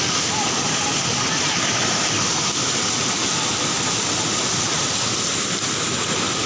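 Steady, loud roar of a waterfall in foggy, cold, rainy conditions, a dense broadband rush filling the whole clip without a break and without any talk over it.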